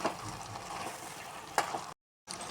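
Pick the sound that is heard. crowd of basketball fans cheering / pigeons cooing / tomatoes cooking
tomatoes cooking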